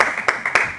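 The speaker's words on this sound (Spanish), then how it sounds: "¡Aplausos, pueblo!" A television studio show audience claps in short bursts, several bright swells of applause pulsing in quick succession over a steady hiss.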